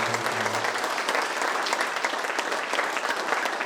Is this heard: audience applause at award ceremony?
yes